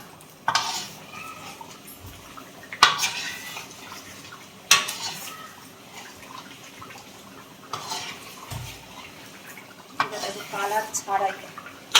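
Food stirred in a cooking pot while making biryani, with a spoon clanking and scraping against the metal in uneven bursts over a low simmering hiss, plus brief knocks between strokes.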